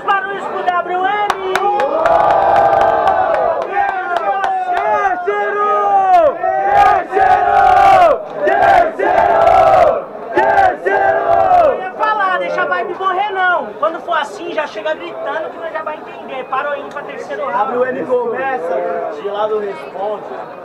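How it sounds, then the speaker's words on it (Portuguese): Crowd at a student rap battle in Guarulhos, São Paulo, roaring, cheering and shouting loudly and continuously for about twenty seconds, with bursts of yelling that gradually settle into lower chatter. "Quem gostou das rimas do Gelado faz muito barulho."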